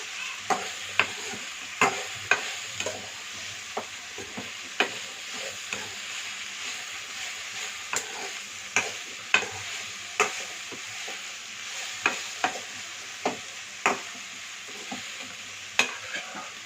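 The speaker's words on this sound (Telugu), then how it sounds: "చూసారా అండి, ఇలా మంచిగా వేగిపోయాయి." Tempering for a flat bean curry fries in a pan, a steady sizzle broken by regular scraping strokes of a spoon as it is stirred, close and without speech.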